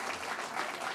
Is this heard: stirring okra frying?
no